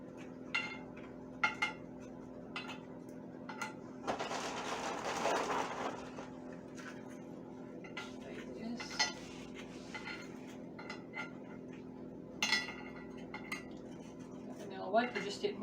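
Vanilla wafers layered into the bottom of a dish for homemade banana pudding, giving scattered light clinks and taps of cookies against the dish, with one longer rustling scrape midway, faint and close.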